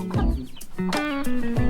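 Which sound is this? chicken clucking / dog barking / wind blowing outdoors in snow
chicken clucking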